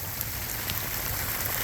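Steady rain patters on the water and surfaces around an ocean kayak during a rainstorm while fishing, a dense, even hiss with no speech.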